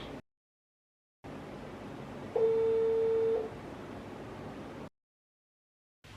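A phone rings out on a video call: a muffled, steady calling tone with one brighter, louder tonal beep in the middle, set between short stretches of silence, no voices.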